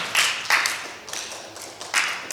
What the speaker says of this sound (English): Clap it up for Kobe, y'all.